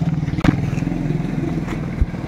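A kick-started motorcycle ticking over with a steady, close putter, broken by a couple of sharp clunks as a gear is engaged.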